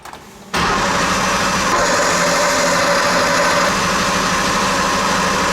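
A 1977 Porsche 911 Turbo engine catching after a brief crank, then settling into a loud, steady, rough idle with a continuous close-up roar.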